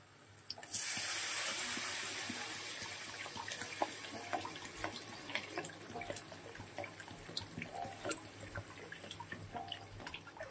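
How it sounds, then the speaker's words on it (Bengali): Water pours into a pot of curry, a sudden splashing gush that settles into steady trickling and bubbling with scattered drips. "এবারে জল দিয়ে দেবো পরিমাণ মতন।"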